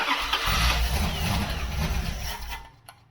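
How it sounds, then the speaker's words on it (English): A Dodge 318 V8 runs on its first start in ten years, a low rumbling idle with a light lifter tick, then the engine cuts off near the end. "a little lifter tick"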